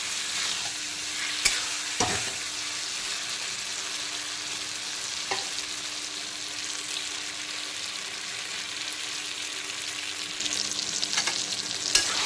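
Potatoes sautéing with spice masala in a pan over medium-high heat for a Kajli fish curry, giving a steady, close hiss of frying broken by a few spatula scrapes, with no voices.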